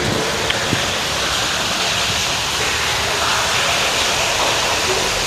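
A steady, rushing roar like flowing water echoes inside a dry 15th-century stone well in Vadnagar, continuous and fairly loud throughout.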